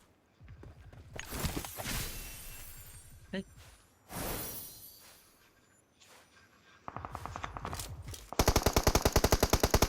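Gunfire in the mobile battle royale game BGMI, with a shotgun in play: scattered shots and bursts, then rapid, loud repeated fire in the last seconds, with voices talking during the gameplay.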